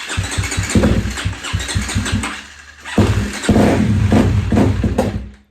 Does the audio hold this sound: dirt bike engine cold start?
yes